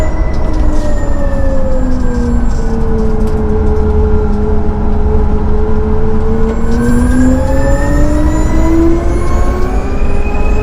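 A Hyundai RN22e electric race car drives on a race track, its high whine rising and falling steadily with speed, loud and close throughout with no talk.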